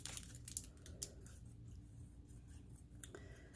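Scissors make a few quick, faint snips trimming paper for a handmade card, followed by quiet handling.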